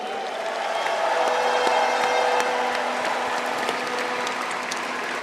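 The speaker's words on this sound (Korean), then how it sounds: "선출되신 최고위원님들과 아쉬움을 삼키신 후보님들을 위해서도 힘찬 응원과 격려의 박수 부탁드립니다." Sustained audience applause at a party convention after elected supreme council members are announced, a steady dense wash of clapping throughout with a faint steady hum beneath.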